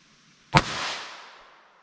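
A single sharp gunshot from a .22 LR rifle firing cheap Winchester Super X ammunition, one loud crack followed by a fading outdoor echo tail, with no talking.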